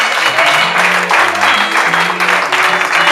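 A church congregation applauds to acclaim the Lord, steady loud clapping from many hands, sustained throughout and mixed with voices and a low tonal background.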